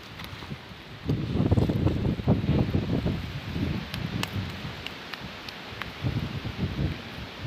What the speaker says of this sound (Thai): เพราะว่าลมหนัก